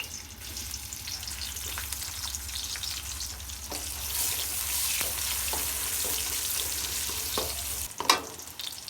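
Onion hits hot oil in a wok, giving a loud, steady, crackling sizzle with bursts of stirring that runs nearly the whole time, then dips briefly near the end.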